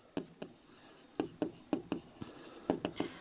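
Chalk or marker writing on a board while a physics problem is solved in a class 9 lesson, a quiet series of short tapping strokes in irregular bursts, close and soft with no talk over it.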